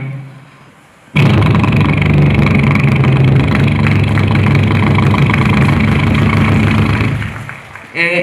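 In a mimicry performance at a state school arts festival, a voice imitates a boat engine with a loud, steady, rumbling drone held for about six seconds, close and continuous.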